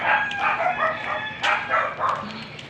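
A few short, sharp dog barks, close by, with brief pauses between them.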